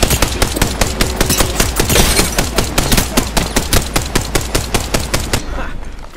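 Rapid automatic gunfire in the video game Apex Legends rattles off in a dense, loud, steady stream of close shots for about six seconds, ending with a brief tail.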